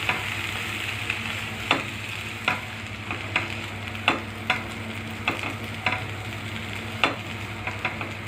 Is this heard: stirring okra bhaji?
yes